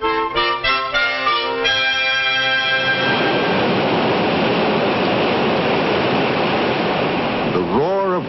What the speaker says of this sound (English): The roar of rushing water was once just a sound, a waste of turbulent energy